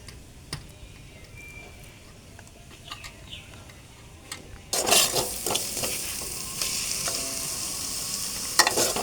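Spice masala with salt and chicken fat fries in a pan. Quiet crackling and scattered ticks come first, then a loud, dense sizzle bursts in about halfway through and carries on with stirring scrapes, and no one speaks.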